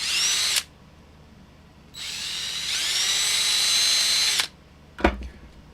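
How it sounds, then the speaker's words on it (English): An electric drill whirs into plastic in two runs, a brief burst then a longer steady spin, followed by a sharp clunk. "I'm about to drill into my fingers."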